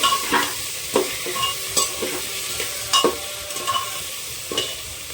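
One spoon of ginger garlic paste fries and is stirred in a pan, soft steady sizzle broken by sharp utensil scrapes and knocks every second or so, close up.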